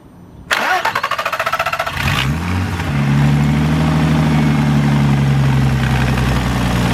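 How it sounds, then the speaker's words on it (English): A car with an R30 VR6 engine cranks over with a rapid starter whir for about a second and a half, catches, then settles into a steady, close idle. "So you're gonna stay out here and watch this while I start the car."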